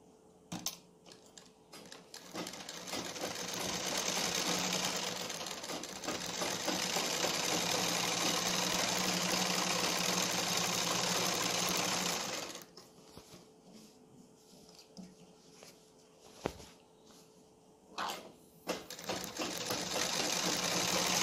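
A sewing machine runs steady bursts while stitching a kurta seam, a loud whirring hum for about ten seconds, then pauses with a few short starts, clicks and thumps.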